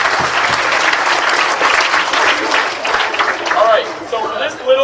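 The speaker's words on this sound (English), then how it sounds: "So let's give Clay a round of applause for his accomplishment." Sustained audience applause fills a school commencement ceremony, dense and steady clapping from a large crowd throughout, with some voices mixed in near the end.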